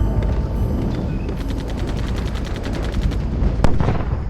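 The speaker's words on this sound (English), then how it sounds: "others face enemy fire and possible death" Bursts of rapid gunfire and distant booms from WWII Pacific combat at Kwajalein, dense and loud through a rough old film soundtrack, with one sharp louder shot near the end.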